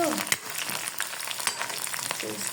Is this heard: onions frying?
yes